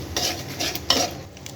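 Spices and a spoonful of chili powder are stirred in a frying pan, giving a steady scraping and clinking of a spoon against metal, with soft sizzling underneath and a couple of louder scrapes, close up and without voices.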